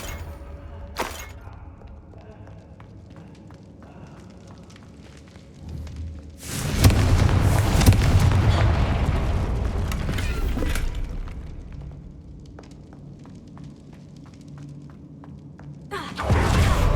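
Confringo blasting spell explosions in Hogwarts Legacy, with a loud broadband blast rumbling from about six to eleven seconds and another burst at the end, over quieter game ambience.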